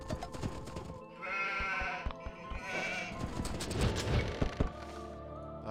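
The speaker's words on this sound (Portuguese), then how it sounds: "Vamos fazer então ali o posicionamento das minhas ovelhas." Sheep in the strategy game Age of Empires 2 give several close, clear bleats across a few seconds, mixed with soft thunks and clip-clop-like taps.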